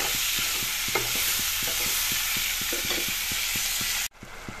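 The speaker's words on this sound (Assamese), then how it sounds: "মাছখিনি কেইমিনিটমান সময় এনেদৰে ভাজি ৰাখিম মই" Magur fish fries in hot oil in a pan, a steady close sizzle broken by regular stirring scrapes, then cut off abruptly near the end.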